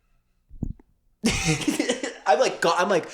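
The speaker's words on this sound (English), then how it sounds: "I'm coughing. You hear that?" One short, dry cough from a person laughing, alone in near silence, then lively talk takes over.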